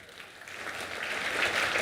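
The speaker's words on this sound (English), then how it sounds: "Can everyone give a clap for ISRO?" Corporate event audience gives brief, faint applause for India's space agency, building slightly louder over under two seconds.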